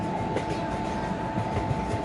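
A train cab's steady rail rumble and broadband running noise, with a constant tone near 1 kHz, continuous and fairly loud throughout, with no talk.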